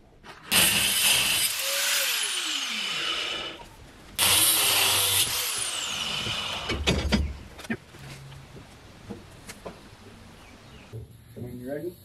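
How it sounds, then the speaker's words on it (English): Power tool cutting through steel rebar set in a rammed earth wall where a window opening is being punched out, loud harsh grinding in two long bursts with a gap between, tailing off into quieter clanks and short voices. "actually cut off the rebar that's going to come right through the middle of our window"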